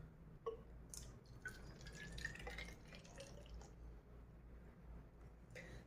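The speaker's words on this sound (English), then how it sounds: "Now, I will fill this bottle with water." Tap water pours into a plastic bottle with a hole cut in its side, a steady low gurgle broken by scattered small drips and splashes, with no talking.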